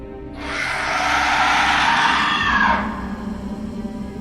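A loud, drawn-out scream from a man, used as a horror story sound effect, swelling over about two and a half seconds and then cutting off, with a low rumbling bed continuing underneath.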